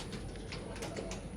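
A bird, apparently a pigeon or dove, gives soft repeated coos close by at Disney's Animal Kingdom Lodge in Orlando, faint against low, steady background noise.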